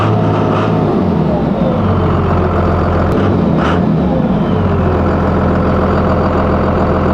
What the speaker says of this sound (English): I'm still having the random revving problem